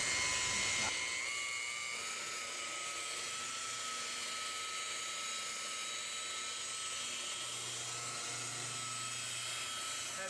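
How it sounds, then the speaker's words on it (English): A car polishing buffer spins at very low RPM on a scratched Jaguar hood while removing epoxy paint overspray. It gives a steady, faint motorized whine that starts after a brief moment and runs continuously, with no talking. "I'm going to use this buffer at a very low RPM"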